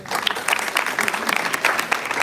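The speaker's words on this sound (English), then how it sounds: "please give our panelists a warm round of applause" A conference audience claps for the panelists at the close of a live panel discussion on what recruiters want, dense steady applause throughout at moderate loudness with no voices over it.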